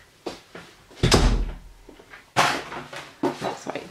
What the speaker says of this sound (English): just had to shut the door